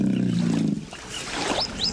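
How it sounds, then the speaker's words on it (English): A lion-like animal roars once, deep and loud, then fades into rough growling and scattered higher cries. "It was more of a roar."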